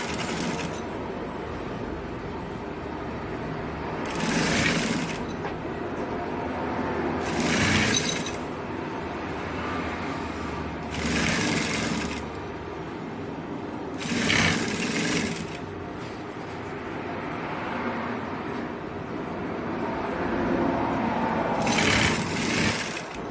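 A sewing machine stitches bias piping onto a pieced skirt, its steady whirring run broken by short louder bursts every few seconds as the stitching speeds up, close by with no talking.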